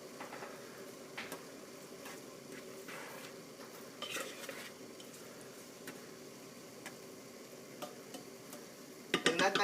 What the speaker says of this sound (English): then just start stirring that in, making sure not to mash the apples.